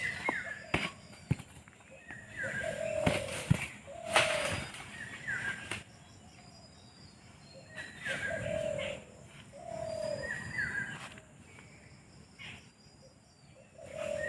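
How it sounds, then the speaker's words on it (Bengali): A dove in a quiet mango orchard at Kansat late in the season repeats soft cooing calls at a regular rhythm, moderately distant, with occasional rustles and clicks nearby. "ঘুঘু পাখি ডাকে"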